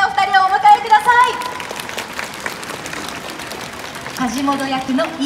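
A crowd at a Christmas illumination event at Canal City Hakata, Fukuoka claps steadily, loud and continuous, while a Japanese voice speaks over the applause at the start and again near the end.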